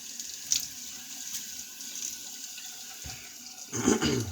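Tap water runs into a sink to wet the face before a shave, a soft continuous trickle that swells into a louder gush near the end, close by and with no talking.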